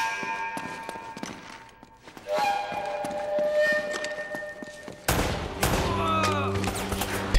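Gunfire in the game Uncharted: Drake's Fortune, Chapter 7 at the Customs House: scattered shots and impacts over a game soundscape, with a louder, denser burst of firing near the end.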